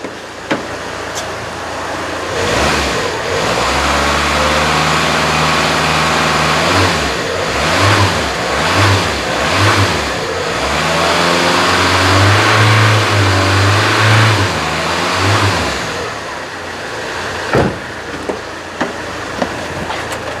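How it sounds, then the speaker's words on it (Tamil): An old Tata car's engine revs up and down repeatedly, loud and close, with rising and falling pitch sweeps over a steady idle, no talk. "இப்போ ரவ் பண்ணுறேன் பாருங்கள்"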